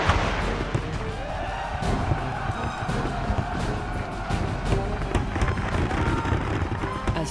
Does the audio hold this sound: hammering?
no